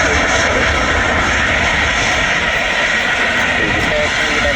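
Qatar Airways Airbus A350 jet engines on departure from Manchester Airport, a loud, continuous broadband roar that stays steady throughout at close range, with no breaks.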